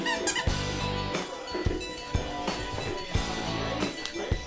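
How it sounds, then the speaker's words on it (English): A squeaker inside a large stuffed chipmunk toy squeaks repeatedly in short, sharp bursts at irregular intervals, close and fairly quiet, with rustling handling between squeaks. "that squeaker will be extracted from the chipmunk by tonight"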